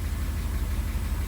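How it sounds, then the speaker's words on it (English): A 1982 Mercedes 380SL with a newly installed timing tensioner idles while warming up, giving a close, steady, even low rumble with no voices. "She sounds good. She's idling well. She's warming up here."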